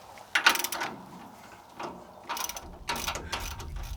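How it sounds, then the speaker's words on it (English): Blade tension is backed off on a home-built bandmill, heard as a few close, loud mechanical ratcheting and clanking bursts separated by short pauses, with no voices. "I'm going to take the tension back off this blade so I can slide the blade guides in"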